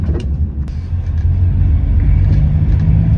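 A car pulls away and drives off, its engine a loud, close, steady low rumble with a slight rise in revs, heard from inside with no talking.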